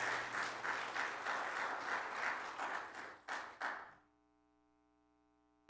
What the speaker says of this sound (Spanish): Dele el aplauso a Él.